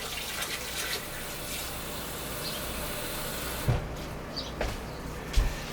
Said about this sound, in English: Then you have to go in with some water. I'm going to use warm water.